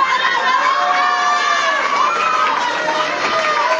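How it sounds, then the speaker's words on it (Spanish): An audience at a modeling agency's event presenting its new faces applauds and cheers, a loud, dense, continuous wash of clapping and shouting voices with no break. "Un aplauso,"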